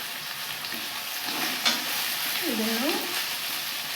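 Finely chopped mint dropped into hot oil with masala for a kadle kalu sagu, sizzling and frying under a spoon stirring and scraping the pan, with one sharp clink and a brief word spoken.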